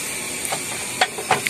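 Water spinach is stir-fried outdoors and stirred with a bamboo spatula, giving a soft sizzling hiss punctuated by a few sharp scraping taps near the end.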